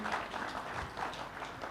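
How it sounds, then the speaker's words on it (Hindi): Audience at an awards event clapping, a short burst of many hands with steady, even texture at moderate loudness. "तालियां बजा के रमेश अग्रवाल जी,"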